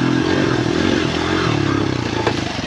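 An enduro dirt bike runs steadily along a rough trail, its engine droning loud and close with a fluctuating throttle and faint rattling and scraping underneath, no voices.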